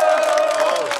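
A crowd cheers and applauds at an outdoor memorial cultural event near a train station, a brief burst of loud, close voices raised together.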